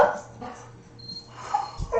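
A small dog barks and yips in a few short bursts at close range, loudest near the end, over a faint low hum, as if warning off a cat outside.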